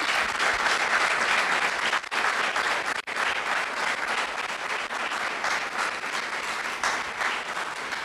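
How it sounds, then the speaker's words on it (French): A studio audience at a French youth television program applauds loudly and steadily, a dense wash of many hands clapping that continues for about eight seconds with two brief dips. "je vous demande de vous applaudir"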